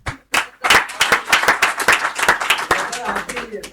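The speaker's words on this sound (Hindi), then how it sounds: "अपने लिए तालियां बजा लें प्लीज" Audience at a medical lecture on ECG interpretation clapping for themselves, a dense patter of many hands starting after a brief pause and continuing steadily, fairly close and loud, with voices faintly underneath.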